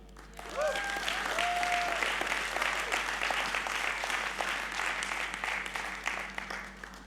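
Sustained audience applause at a corporate presentation, a steady wash of many hands clapping at moderate distance, with a brief tonal sound near the start.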